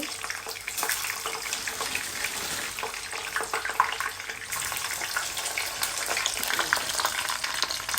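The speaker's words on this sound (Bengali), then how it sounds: "রোল ভাজছে" Rolls frying in oil for an iftar meal make a continuous, fairly loud crackling sizzle with spattering bursts that swell toward the end, and a faint clatter sits in the background.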